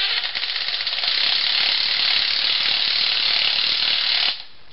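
A ratchet turns a socket while a car strut is compressed in a workshop, giving a continuous rapid clicking of the pawl for over four seconds, close and fairly loud, ending suddenly.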